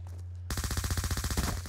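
A weapon in Black Ops 2 opens fire after a brief quiet moment, letting off a fast, loud burst of rapid automatic shots that rattle on steadily for over a second.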